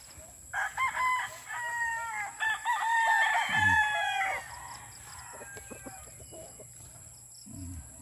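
A pure Boston gamecock rooster in a backyard fowl pen crows several times, loud and nearby, with clucks, a few low knocks and faint crickets in between.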